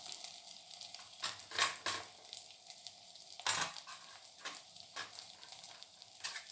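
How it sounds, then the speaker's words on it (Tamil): Garlic, curry leaves, coriander and green and dried red chillies sautéing in a pan for horse gram rasam, a soft steady sizzle with several scraping stirs of a spoon, quiet and close. "எல்லாத்தையும் நல்லா வதக்கிக்கலாம்."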